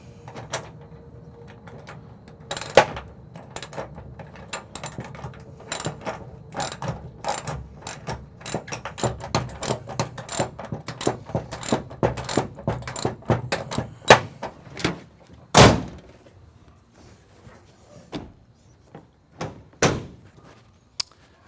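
Fasteners on a Diamondback truck bed cover being tightened down, giving a long run of sharp ratcheting clicks and metallic ticks, some in quick bursts and a few louder clanks, close by with no talking.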